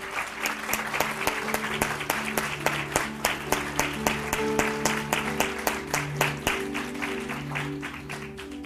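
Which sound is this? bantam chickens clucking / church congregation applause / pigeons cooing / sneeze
church congregation applause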